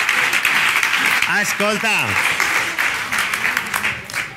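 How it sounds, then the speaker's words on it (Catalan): An audience applauds steadily at a talk, a dense wash of clapping running the whole time beneath a speaker's voice. "un aplaudiment!"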